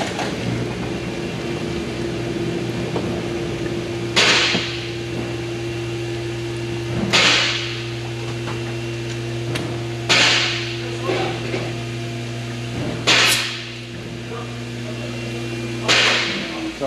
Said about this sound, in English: Now I'm gonna remove our crankshaft pulley.